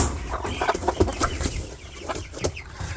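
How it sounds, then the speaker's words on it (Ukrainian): A 10-month-old young hen that has just started laying clucks repeatedly in short, uneven bursts, close and fairly loud, with no talking. "Так, молоденька курочка, 10 місяців. Тільки почала нестись."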